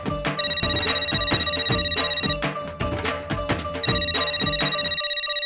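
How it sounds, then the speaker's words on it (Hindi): A telephone rings with a loud, looping electronic melody, a call coming in from a neighbour's house in a home comedy scene; the tune repeats steadily with a beat and cuts off near the end, with no talking. "हाथी भाई के घर से फोन है"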